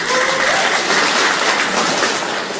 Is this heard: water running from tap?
no